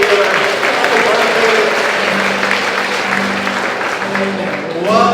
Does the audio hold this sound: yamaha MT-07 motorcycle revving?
no